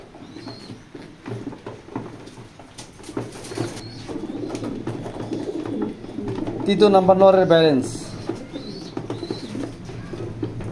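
Pigeons coo softly in a racing-pigeon loft, a low steady murmur running throughout with a louder burst near the middle, while someone talks over them.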